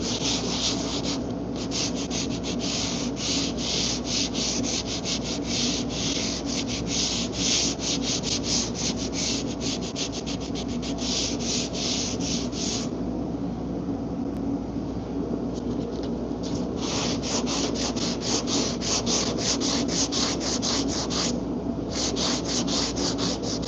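A hand sanding block rubs back and forth on an Infiniti Q50 fender body panel, giving fast, rhythmic, close scratchy strokes that run almost continuously with a few short pauses, and no voices.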